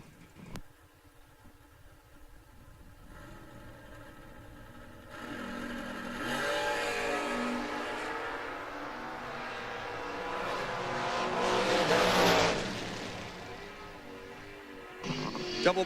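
Drag racing cars, including a Chevrolet S10, launch down the strip at a drag racing event, their engines rising from a distant rumble into a swelling roar that peaks and fades as they pass, heard alone without commentary.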